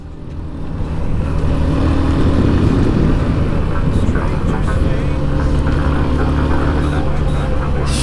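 A vehicle climbing slowly along a winding mountain road, its engine drone and road rumble steady and loud throughout, with wind buffeting.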